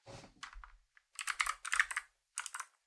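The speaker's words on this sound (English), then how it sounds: "Moonlander keyboard." Keystrokes on a Moonlander mechanical keyboard, close and clear, arriving in quick irregular bursts of clacks separated by short pauses, with no voices.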